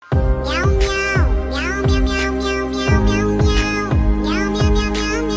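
Cat meows cut into a remixed song, loud repeated meow calls falling in a steady rhythm roughly every half second over a musical beat, with no talking.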